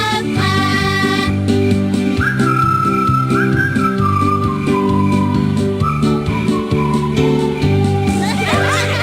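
A cheerful little tune whistled over bright, bouncy background music in the Reader Rabbit Kindergarten game, the melodic whistle line gliding along steadily and loud for several seconds.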